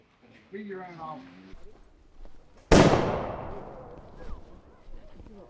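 Muskets fire a single sharp volley at a Revolutionary War reenactment at Kings Mountain, a loud outdoor crack with a long echoing decay, preceded by a shouted command and followed by faint voices.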